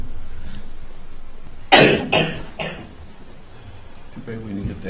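A short burst of two or three harsh coughs breaks a quiet background at a plan commission meeting, followed by a faint voice murmuring afterward.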